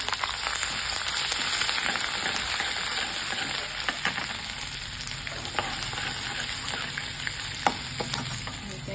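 Chana dal, urad dal, green chilli, ginger, curry leaves and onion frying in a pan for akki rotti, a dense, loud, continuous crackling sizzle with occasional stirring clicks and no speech.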